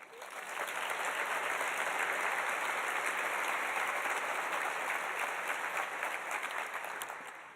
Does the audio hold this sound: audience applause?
yes